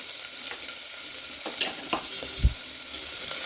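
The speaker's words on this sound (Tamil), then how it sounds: "இப்போ இந்த எண்ணெய் சூடானதுக்கப்புறம் நம்ம நறுக்கி வச்சுருக்கேன் நல்ல ஒரு கைப்பிடி சின்ன வெங்காயம் நறுக்கி வச்சுருக்கேன்" Steady sizzle of chopped small onions (shallots) frying in hot oil, with a few stirring scrapes and one soft knock near the end, fairly close and with no talking.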